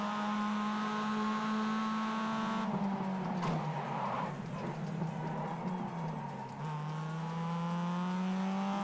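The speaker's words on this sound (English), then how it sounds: "Oh, these cars are so loud." Spec Miata race car engines in the iRacing sim, a steady loud droning whine throughout that shifts pitch with gear changes and cornering, with a rougher patch midway.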